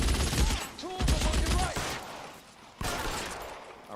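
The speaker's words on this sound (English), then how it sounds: "now it's like massive like movie type shootout" Gunfire crackles through a large shootout in the video game L.A. Noire, with rapid bursts of shots and ricochets close up and loud, then a fresh volley near the end.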